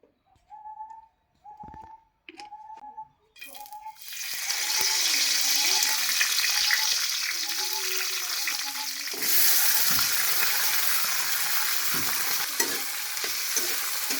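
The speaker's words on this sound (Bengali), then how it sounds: "পেঁয়াজগুলো ভেজে নিচ্ছি।" Onions frying in a pan for an iftar meal: after a few short bursts of voice, a loud, steady sizzle takes over and holds to the end, with occasional stirring clinks and a voice faintly underneath.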